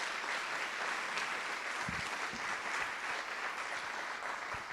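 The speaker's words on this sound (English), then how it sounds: "would you give all of them a round of applause for their support?" An audience at the 2017 National Teachers Hall of Fame induction ceremony applauds, a sustained, moderately distant clapping from a large crowd with a few sharper claps standing out near the front.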